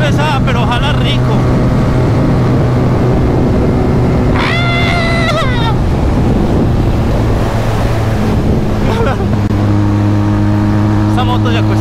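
A Benelli Leoncino 800 motorcycle being ridden, its engine droning steadily under heavy wind buffeting, with rising revs and shifting tones at points along the way.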